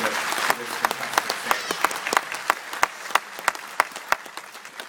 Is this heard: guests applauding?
yes